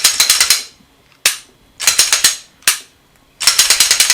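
A Glock 17 Gen 5 pistol being dry fired and its slide worked: sharp, close metallic clicks and rattling slide clacks come in bursts, with short quiet gaps between them and no voices.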